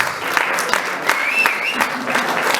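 Applause for a sport council committee at a mayor's sports gala awards event, steady dense clapping from a crowd with a faint whistle rising over it.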